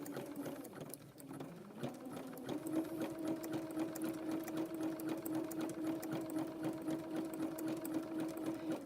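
A sewing machine in need of cleaning stitches continuously, a steady close mechanical whir with rapid rhythmic ticking that starts up after a brief pause.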